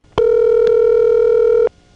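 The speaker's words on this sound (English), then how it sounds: "This is the sound of the ESS office pacifying the customer by putting on a ringtone until the intercept" Steady telephone ringing tone from a 1970s ESS electronic central office in Brooklyn, one continuous held tone of about a second and a half, loud and clear with no talk, starting and stopping abruptly.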